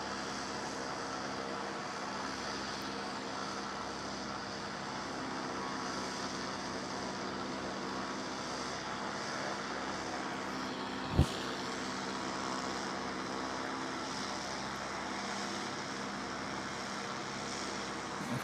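A Jetstar airliner takes off at an airport, its engines giving a steady, broad roar that holds through the whole stretch, with one sharp knock partway through.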